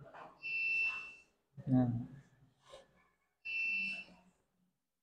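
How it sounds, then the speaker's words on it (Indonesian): An electronic buzzer driven by an ATMega328 microcontroller sounds two steady high-pitched tones of about a second each, with a person speaking briefly between them. "Saya tidak tahu nih, buzzernya di sini nanti akan mati apa hidup ya."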